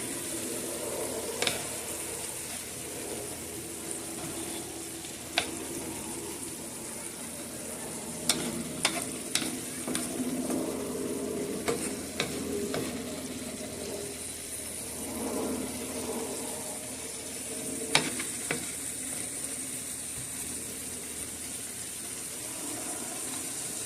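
Chopped tomato stirred into tawa mutton keema on a hot pan, a steady soft sizzle with scattered scraping clicks of a spatula against the metal, continuous and close without talk.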